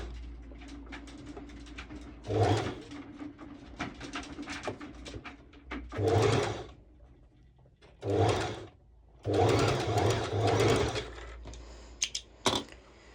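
A sewing machine runs a zigzag stitch along stretch swimsuit fabric, several close bursts of rapid rattling stitching separated by quieter pauses and handling noise.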